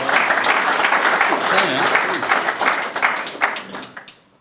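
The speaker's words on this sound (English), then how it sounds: "please put your hands together to welcome him" Audience applause welcoming a speaker at a mining and metallurgy institute technical session, a steady roomful of clapping that thins and fades out toward the end.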